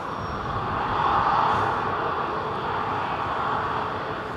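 Airbus A220 jet at London Heathrow Airport, a steady broad engine roar that swells slightly and holds at moderate distance, with no voices.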